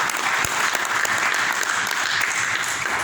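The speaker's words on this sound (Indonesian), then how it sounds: "Tepuk tangan buat Tuhan." Loud, sustained applause from a church congregation fills the space, dense and continuous clapping with scattered louder claps throughout.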